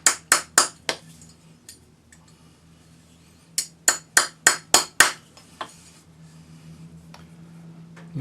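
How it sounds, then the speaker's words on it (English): A rawhide hammer forms a 3mm wire cuff on an oval mandrel, striking in two close bursts of sharp taps, one fading fast and one of six or seven blows. Near, crisp and clear, with quiet gaps between. "take your rawhide hammer to finish forming it"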